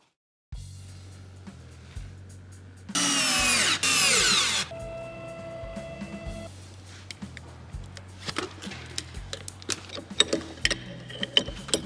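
A CNC router with a regular hardware-store bit cuts scrap wood pieces, giving a loud whining cut of a second or two amid quieter motor hum, clicks and knocks of the machine.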